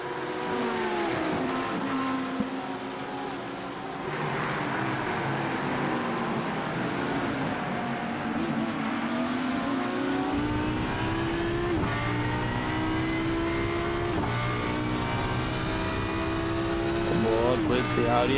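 Race cars including an Audi R8 in an endurance race at Imola, engines revving and shifting through gears, loud and continuous, with a commentator speaking over them.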